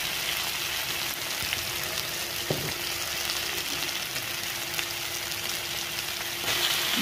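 Chayote shoots stirred into a pan of frying masala, a steady close sizzle running throughout with a few scraping stir knocks, village-style cooking.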